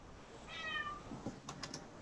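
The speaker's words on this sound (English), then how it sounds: "He probably hears my cat." A house cat gives one short, close meow, and a few quick computer keyboard clicks follow in a quiet indoor room.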